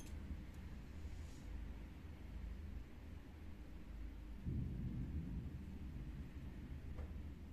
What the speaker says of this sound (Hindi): बादल की आवाज सुन रहे हो आप लोग?